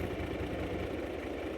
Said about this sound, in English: we'll leave the Mac running, warm the engine up.